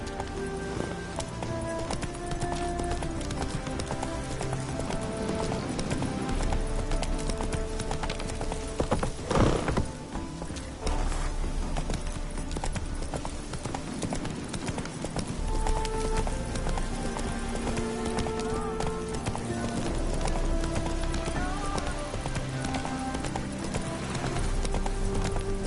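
Horse hooves clip-clop at a steady galloping rhythm in The Witcher 3, loud and continuous over a bed of game music, with an occasional neigh.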